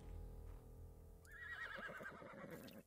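Horse neighing in the video game ARK: a loud, wavering whinny rises midway and shudders for over a second, standing out over a steady low game hum.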